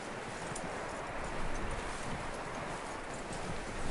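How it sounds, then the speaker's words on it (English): Horse hooves clip-clopping in the video game Red Dead Redemption 2, a quiet, steady rhythmic patter over a noisy outdoor bed, with no speech. "That looks like a decent horse."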